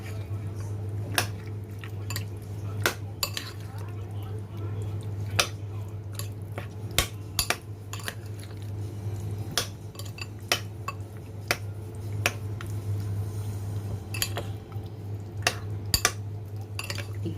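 Pork ribs being mixed with seasoning in a bowl by hand, a quiet repeated clinking and scraping against the dish at irregular intervals over a steady low hum.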